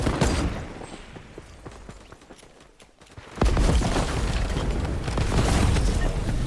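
Sniper gunfire in Fortnite, booming shots with an abrupt loud burst, followed by sustained noisy game action.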